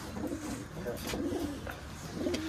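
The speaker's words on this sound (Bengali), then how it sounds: "টেডি কবুতর এখানে বেশিরভাগ আছে" Teddy pigeons at a pigeon keeper's loft coo in soft, low, repeated phrases close by, with a steady background murmur underneath and no clear talk.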